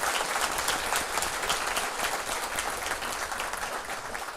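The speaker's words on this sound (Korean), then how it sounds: "신혼여행 잘 다녀오고 잘 살라고 박수 한번 해주세요." A church congregation applauds newlyweds, with dense, even clapping from many hands filling the room at a steady level throughout, no voices over it.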